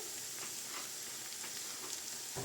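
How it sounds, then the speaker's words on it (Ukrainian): Steady soft sizzling of onions frying in a pan over low heat, a gentle continuous crackle with faint stirring, fairly quiet and close. "Цибулю смажимо 5-10 хвилин на слабкому вогні."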